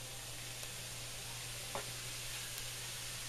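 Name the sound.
ground beef sizzling in a pan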